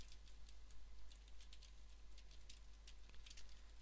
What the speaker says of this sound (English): just gonna type in your email address